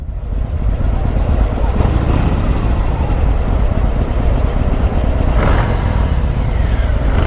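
A 2019 Harley-Davidson Iron 1200 motorcycle accelerating in first gear, loud close engine roar mixed with heavy wind rumble, steady and continuous throughout.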